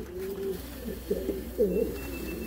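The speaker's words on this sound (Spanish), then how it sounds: "Esta es la madre de la paloma" Pigeons cooing nearby, a few soft throaty rolling calls in short bursts against a quiet background.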